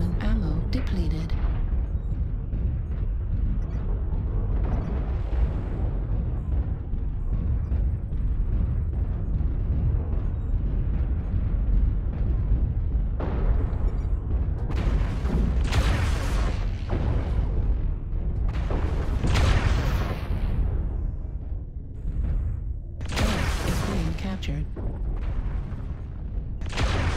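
Airstrike explosions pound a Reaver in a video game, a dense run of loud booms and blasts over continuous battle noise, with several sharp bursts standing out near the end.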